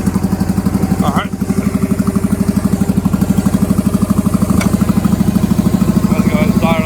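An old tractor under revival runs while hauling a load, its engine thumping in a steady, even loping beat up close, with brief voices and small clanks over the top.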